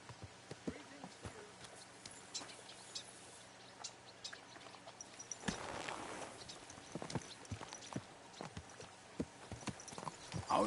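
Horse hooves clip-clop in the medieval video game Kingdom Come Deliverance 2, a steady close rhythm of hoofbeats that continues throughout, with a brief burst of noise midway.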